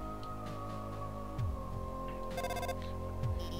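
An incoming phone call in Undertale sounds as a chiptune-style electronic ringtone, a repeating bright beeping pattern in short bursts over an ongoing background game melody, clear and close.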